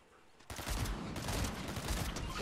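Sustained rapid gunfire in a Fortnite-style battle royale match bursts in after a brief quiet moment, continuing as a dense, loud volley to the end.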